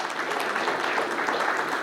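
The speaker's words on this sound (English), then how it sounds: "Everyone, please welcome Mr. Sourabh Sengupta with a very big round of applause" An audience at a corporate panel discussion claps to welcome a panelist, a brief burst of dense, even applause filling the room throughout.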